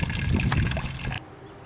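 Running water from a sump pump trickles and splashes steadily up close, then cuts off abruptly to a quiet hiss.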